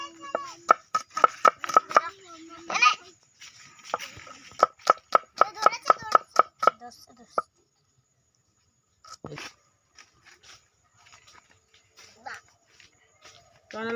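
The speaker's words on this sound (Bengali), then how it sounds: "পেঁয়াজগুলো কেটে নিচ্ছে প্রথমে।" Onions being chopped with a knife on a board, a quick run of close, sharp rhythmic knocks in bursts, then a pause and a few scattered cuts, with some handling noise.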